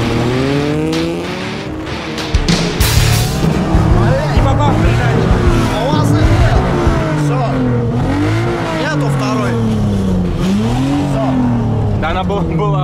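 A Mitsubishi FTO pulls away and accelerates hard, its engine note rising and shifting through gears with some tyre noise, loud and close, while people talk and shout over it throughout.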